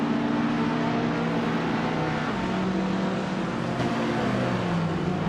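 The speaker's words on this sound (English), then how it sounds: "Lian Yashin is leading the race with her vintage 1966 Lotus Cortina" A vintage 1966 Lotus Cortina races on a track with tight corners, its engine a loud, continuous drone with shifting pitch as it holds pace.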